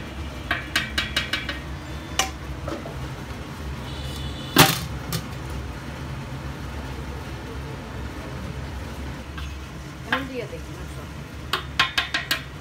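Metal cooking pot lid lifted and handled while khichuri cooks on the stove, a few sharp clinks and one loud metallic clang, scattered over faint kitchen background and quiet talk.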